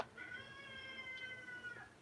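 A cat gives one drawn-out, rising and falling meow, close and clear, lasting most of the stretch over quiet background.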